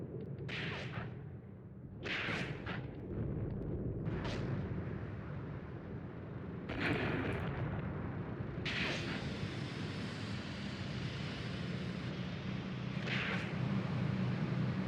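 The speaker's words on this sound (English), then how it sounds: "new artillery strike" Artillery strikes land in a Tank Warfare: Tunisia 1943 battle. About six sharp booming impacts arrive at irregular intervals over a steady low rumble of engines and distant battle noise, with no talk.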